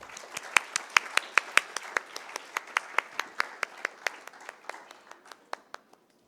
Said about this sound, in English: give a huge round of applause to Dr. Professor Tariq Mehmood.